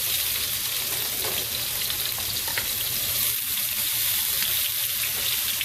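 Peppers and onions sizzle steadily in a hot pan while sautéing, a dense, even crackle with faint stirring scrapes throughout and no talking.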